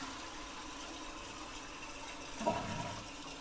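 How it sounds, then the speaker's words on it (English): Water rushes steadily from a Toto Aquia II toilet, with a brief sharper surge midway as the flush is triggered and the fill valve runs. "So let's flush it and see what happens."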